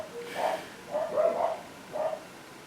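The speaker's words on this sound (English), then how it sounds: "It's like a dog orchestra." Several dogs bark and yip in a quick uneven cluster of about four or five calls, close and fairly loud, with no talking.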